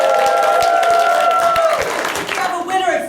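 Audience applause and cheering rise from a crowd at a live improv show as people vote for a title, with tonal voices and sustained crowd noise throughout.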